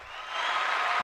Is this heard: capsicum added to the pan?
no